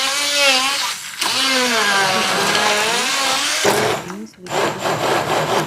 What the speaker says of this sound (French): À l'aide de mon petit mixeur, j'ai incorporé un bouillon.